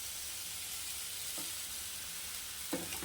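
Onions sautéing lightly in a pan for tomato egg dosa, a steady close frying sizzle with a couple of soft scraping stirs near the end.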